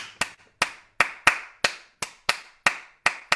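Crisp hand claps keep steady time to the folk song "Adam in the Garden," about ten evenly spaced claps ringing out close and clear with nothing else around them.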